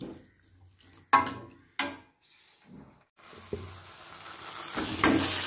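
Tomatoes cooking in a pan for dal tadka: a few sharp clatters of a spoon against the pan, then a rising, continuous sizzle that grows louder toward the end.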